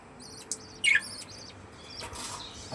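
Birds flutter their wings after a morning feeding: a couple of quick, soft bursts of flapping mixed with short, thin chirps and tweets, all fairly faint against a quiet background.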